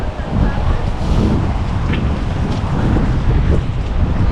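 A river flows with a steady, close broadband rush in an outdoor residential area, mixed with some wind noise and no clear breaks.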